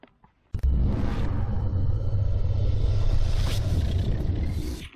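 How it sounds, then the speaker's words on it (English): A GT Power engine sound system mounted on an RC car kicks on abruptly after a few faint clicks, producing a loud, continuous rumbling simulated engine roar with broadband whooshing that swells slightly before easing off. "See how cool this GT.POWER car engine sound system is."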